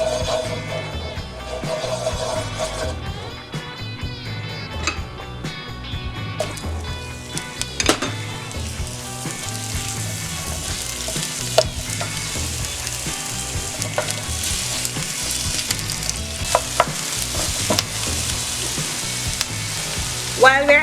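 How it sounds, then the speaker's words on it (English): Onions sizzling and caramelizing in a hot pan for vegan pizza, a loud, close crackling fry with repeated scrapes and stirring knocks throughout, no talking. "is to caramelize the onions."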